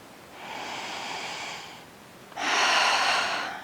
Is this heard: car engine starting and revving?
no